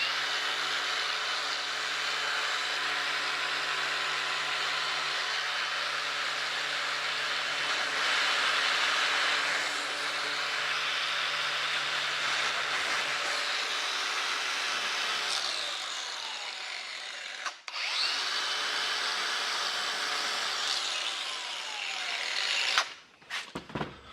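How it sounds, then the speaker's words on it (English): Angle grinder fitted with a new Nico flap disc grinding down a weld, a steady loud whine held for many seconds, then tailing off and stopping with a few short clanks at the end. "I'll put a brand new Nico flap disc on it."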